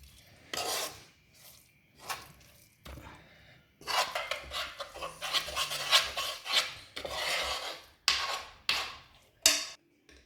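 A spoon scrapes and rubs against a bowl while rose petal jam gets stirred, giving repeated rasping strokes in irregular bursts with short pauses, close and fairly loud, no talking.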